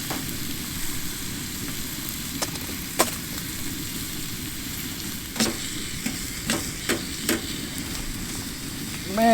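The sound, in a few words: steak, peppers and onions frying on a hot tent wood stove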